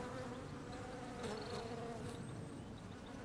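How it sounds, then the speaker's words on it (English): Many bees buzzing around lavender in a British wildflower garden, a steady low drone under outdoor background noise, with no talking. "Just look at that lavender, it's teeming with bees."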